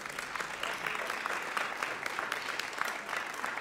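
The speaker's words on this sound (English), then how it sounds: "give him a big round of applause" A crowd at a church service claps warmly for a man called up from the audience, a steady even wash of many hands lasting several seconds with no voices on top.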